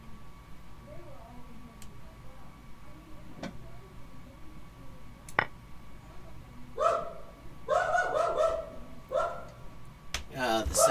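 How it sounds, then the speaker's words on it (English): An excitable dog barking in quick, yappy bursts that start after a quiet stretch and grow busier toward the end. "the sound of an excitable dog"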